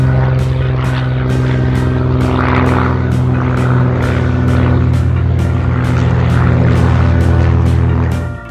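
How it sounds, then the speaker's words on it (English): Helicopter in flight: a loud, steady engine drone with a fast, regular rotor chop, roughly twice a second, sustained close by for the whole stretch with no talk. "Helicopter."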